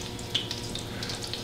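Tap water runs into a pot of rinsed broccoli, a close, steady trickle and splash with small droplet spatters, no voices.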